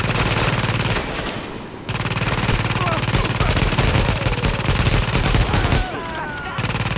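Gunfire in The Division during a sniper encounter, with dense, loud rapid shooting and a brief drop in intensity near the end.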